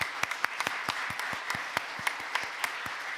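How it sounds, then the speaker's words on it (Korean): Scattered, fairly light clapping from a church congregation honoring retiring elders, deacons and deaconesses at a special worship service; irregular sharp claps ring out over a soft continuous patter, with no voices. "우리 박수로 격려해 주시고 축하해 주시기 바랍니다."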